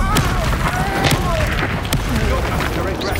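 A fire spell cast in the Hogwarts Legacy game during a fight in a spider lair: a dense, continuous rumble of crackling blasts and thuds at steady loudness, with a voice calling out over the combat.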